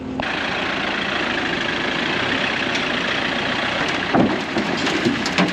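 A tractor fitted with forks idles with a steady, heavy low rumble close by, a few knocks and clatters rising briefly near the end.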